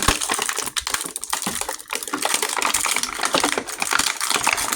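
A JAKKS Pacific Sonic the Hedgehog Cream action figure is broken out of its plastic packaging, giving a continuous run of close, crackling plastic crunches and snaps with no talking.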